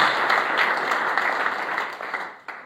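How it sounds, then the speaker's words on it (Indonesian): A church congregation gives a burst of dense applause that holds steady and then fades out toward the end, with a last few scattered claps. "Beri tepuk tangan yang terbaik buat Tuhan Yesus Kristus."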